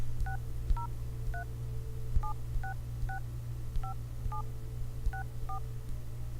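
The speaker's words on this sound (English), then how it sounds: "you're going to grab your cell phone or your office phone, whichever you're using, and you're going to dial into this number" A phone keypad beeps out a series of dual-tone touch-tone digits, a dozen short evenly clipped tones at irregular intervals over a steady low hum.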